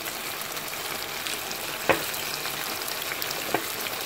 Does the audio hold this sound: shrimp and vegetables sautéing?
yes